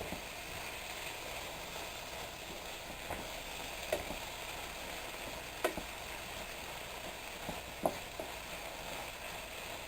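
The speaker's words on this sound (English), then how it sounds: "Meat and onions. We're going to mix that around in there." Cooked ground meat and onions being stirred in a pan, a soft continuous sizzle with faint scraping and a few sharp utensil clicks against the pan, steady and close, with no talking.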